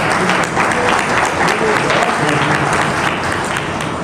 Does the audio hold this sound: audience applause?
yes